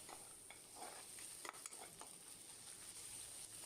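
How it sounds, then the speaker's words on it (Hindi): Spatula strokes scrape steadily through green masala paste with ginger and garlic frying in a pan, over a soft, continuous sizzle, close and fairly quiet, with no talking. "यहाँ पे इसे चलाते रहना है इसी तरह से।"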